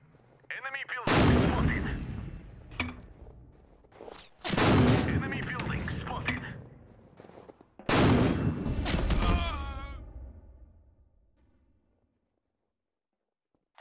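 Mortar artillery fire in the video game Empires Source mod booms three times in long rumbling blasts several seconds apart, loud and close, with the last fading into silence.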